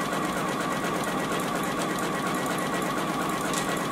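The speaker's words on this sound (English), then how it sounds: "We're going to stitch all the way around all four sides." A JUKI sewing machine runs steadily as it stitches around the edges of a fabric beverage coaster, a fast, even, continuous whir heard up close with no voices over it.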